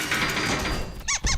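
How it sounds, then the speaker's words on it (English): Cartoon cage door closing with a creaky squeak, followed by two quick squeaky clicks at the end, close and without talk. "Let's close the cage door before Pippin escapes again."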